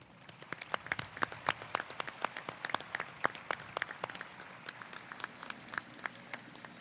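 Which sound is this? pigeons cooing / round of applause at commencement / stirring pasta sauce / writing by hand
round of applause at commencement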